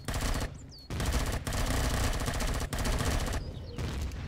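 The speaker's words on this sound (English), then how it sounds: "he's already firing rockets" Enemy rocket and weapons fire in the space survival game Empyrion Galactic Survival: loud, dense bursts of rapid shots with a few brief gaps between volleys.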